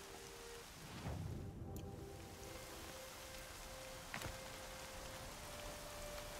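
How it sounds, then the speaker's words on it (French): Steady rain in the video game Horizon Zero Dawn, a continuous broad hiss of falling water with a low rumble early on and a couple of brief sharp ticks, alongside faint tonal game sounds. "La pluie couvre les bruits, je ferais mieux d'ouvrir l'œil."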